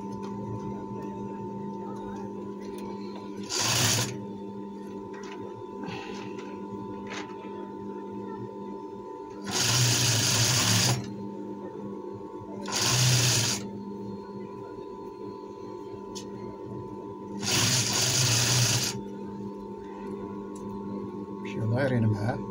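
A sewing machine stitches the pocket of a traditional djellaba with braid trim and lining, running in four short bursts of about a second each over a steady background hum, with quiet pauses between runs.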